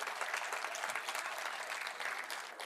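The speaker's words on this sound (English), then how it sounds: "So now you can clap because I think they deserve it." Audience applause at an environmental award ceremony, a dense, steady wash of many hands clapping at once that holds evenly throughout and starts to taper at the very end.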